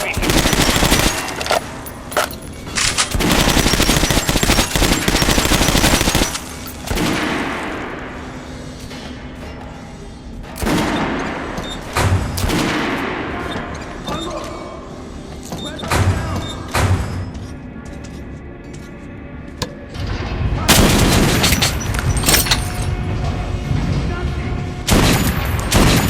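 Gunfire in the video game Metro Last Light Redux: loud, dense bursts of automatic fire come in repeated volleys, separated by short lulls with thuds and mechanical clatter.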